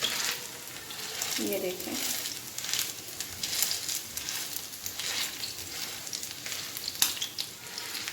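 Peshawari chapli kabab frying in a pan with a tomato slice, a steady close sizzle with occasional sharper pops, while a voice speaks briefly near the start.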